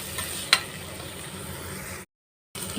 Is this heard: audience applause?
no